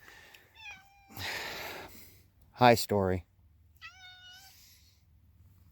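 A cat gives several short meows close by, and a person speaks briefly between them.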